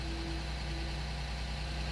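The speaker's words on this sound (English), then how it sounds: "As you can see, engine is running" A Ford Fiesta 1.0 EcoBoost three-cylinder engine, low on oil pressure, idles with a steady low hum and faint tonal whine, constant and fairly quiet, with no voices.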